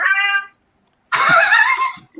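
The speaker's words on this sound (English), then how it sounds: "Oh, is that your cat?" A house cat meows twice at close range, a short tonal cry followed by a longer, louder, wavering one after a brief silence.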